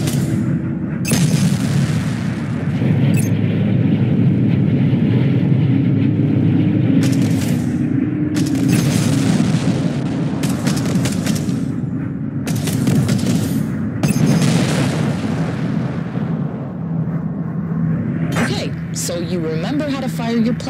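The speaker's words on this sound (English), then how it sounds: "Don't forget, plasma cannons drain weapons energy." Repeated heavy blasts of plasma cannon fire in the game Strike Suit Zero boom and crackle in rapid bursts, loud and continuous, with voices talking underneath.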